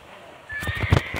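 Horse whinnying in a Wild West video game, a short loud neigh that starts after a quiet moment, with a few heavy low thuds underneath.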